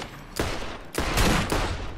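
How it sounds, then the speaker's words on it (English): Enemy gunfire in Borderlands comes in sharp, loud bursts, roughly three rapid volleys of shots within a couple of seconds, close and punchy with no talking. "he's shooting me"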